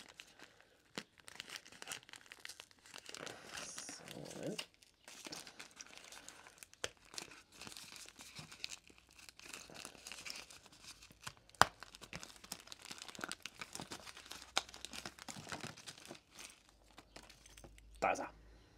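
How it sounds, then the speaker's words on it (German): A pike fishing lure is unpacked from its plastic packaging, with quiet bursts of crinkling and tearing scattered across the stretch and a voice heard at times. "dann würde ich mal sagen, packen wir den doch mal aus"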